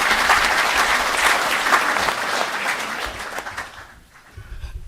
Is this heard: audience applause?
yes